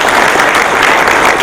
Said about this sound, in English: Give us applause.